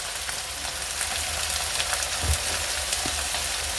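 Chanterelle mushrooms frying in a pan and turned regularly, with a dense, steady sizzle and crackle close up, plus one or two soft utensil knocks.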